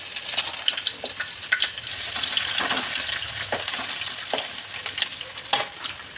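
Garlic, dried red chillies, coriander seeds and cumin seeds fry in a tablespoon of oil over a low flame, giving a soft, steady sizzle broken by repeated close stirring scrapes and small pops.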